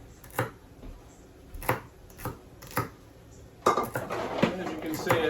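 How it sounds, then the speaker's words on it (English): Celery is chopped with a knife on a board in a home kitchen, first as separate sharp knocks about a second apart, then as a quicker, busier clatter of cuts and utensil clinks. "As you can see, it requires a lot of chopping."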